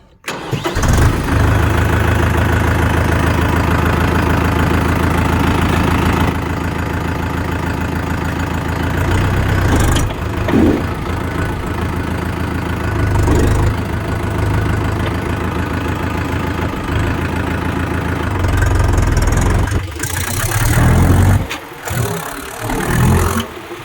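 A Mahindra Yuvo 585 MAT 4x4 tractor engine starts up and settles into a loud, steady diesel idle close by, with some revving changes and mechanical clatter toward the end.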